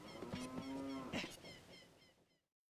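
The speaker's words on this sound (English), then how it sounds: "Nothing on the cow." In a Zelda: Ocarina of Time randomizer race, an in-game cow gives a single drawn-out moo, clear and close over soft background game music, then fades into silence.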